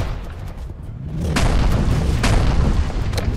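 Gunfire in the multiplayer video game Crab Game: a dense, continuous crackling volley from many players firing at once, loud and sustained, with sharper bursts standing out near the middle and end.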